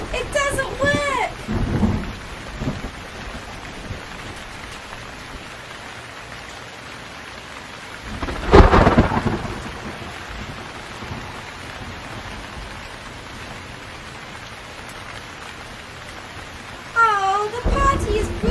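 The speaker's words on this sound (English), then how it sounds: "I can't tell the storm to stop." A thunderstorm with heavy rain, steady rain hiss throughout, broken by a loud thunderclap near the middle and rumbling at the start and end, with people talking briefly over it.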